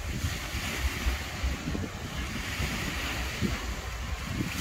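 Ocean waves roll in at Praia do Tomé beach in Palhoça, a steady broad surf roar mixed with gusty wind buffeting the microphone, with no voices.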